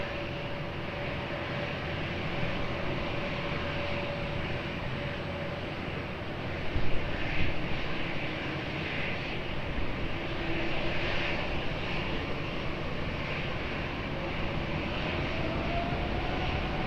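Lufthansa airliner taking off from runway 20 at Lisbon Airport, a steady, loud jet engine roar sustained throughout with a slight swell midway, heard alone without talk.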